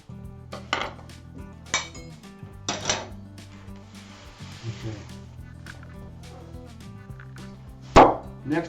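A knife chops tempeh into cubes on a board, producing irregular sharp knocks and taps spaced a second or so apart, close and clear, with a louder clatter near the end and quiet background hum.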